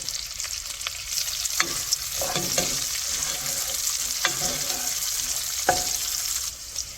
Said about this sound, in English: I'm going to add my onion and my garlic, and I'm going to cook that up for about a minute.